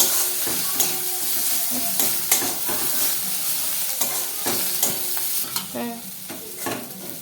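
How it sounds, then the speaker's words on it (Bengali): Spice paste with garlic fries in a pan for a snail curry, a continuous close sizzle punctuated by repeated scraping stirs of a spoon against the pan. "রসুনটা দিয়ে দিলাম মশলাটাকে ভালো করে ভেজে নেবো"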